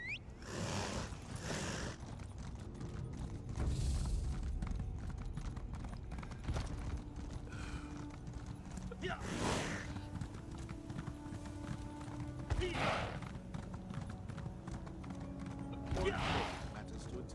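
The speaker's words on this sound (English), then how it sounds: "we're riding the zombie horse" Rhythmic clip-clop of zombie horse hooves in the video game Elder Scrolls Online at a steady gait, close and continuous, with occasional creaks and faint voices in the background.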